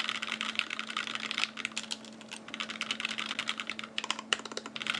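Typing on a KBDFans Blade 60 keyboard fitted with FFFF switches, a dense run of crisp, close keystrokes with brief pauses, heard alone over a faint steady hum.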